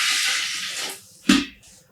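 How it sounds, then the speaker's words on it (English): Two liters of water pour into a vessel for dyeing yarn with black dye, a steady splashing rush that fades, then a brief louder splash and trickle near the end. "I'm adding in 2 liters of water."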